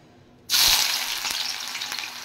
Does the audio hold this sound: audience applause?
no